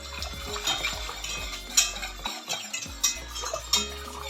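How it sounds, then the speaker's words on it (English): A whisk scrapes and clinks against a metal pot while white sauce is stirred with kohlrabi cooking water on a gas stove, giving rhythmic metallic taps and scrapes over a soft low hum. "Then just whisk."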